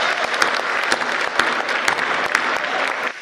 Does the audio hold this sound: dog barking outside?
no